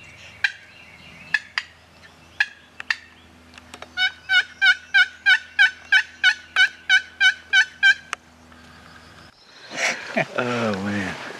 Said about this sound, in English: Got us one gobbling next to the truck.